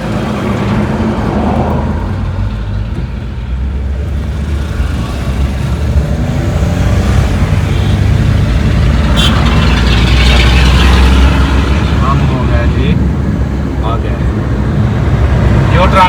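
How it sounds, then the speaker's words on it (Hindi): Cars and trucks pass on a busy road, a steady rumble of engines and tyre noise heard from inside a vehicle, with someone talking over it. "तो काफ़ी गाड़ियाँ थी यार इधर"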